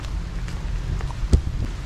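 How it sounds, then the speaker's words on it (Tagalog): Heavy rain pours steadily, a dense low rumbling wash with occasional louder drops striking nearby. "lumakas ang ulan."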